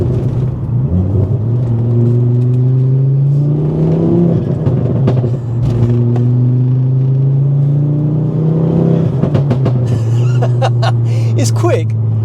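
A 2.5 turbocharged Ford Focus ST3 engine heard from inside the car, revving in rising and falling pulls that sweep up through the gears, loud and close, with a voice speaking briefly near the end.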